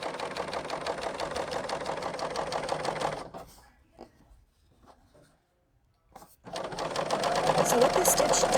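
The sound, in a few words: sewing machine sewing a wide stitch on fabric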